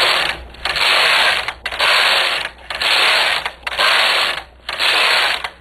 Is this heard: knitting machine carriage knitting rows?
yes